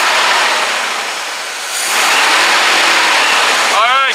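A 1976 Chevy square body pickup engine runs with a steady broadband roar that dips briefly and then surges louder, with a voice at the very end.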